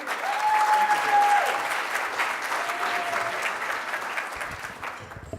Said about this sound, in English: it's nice to get applause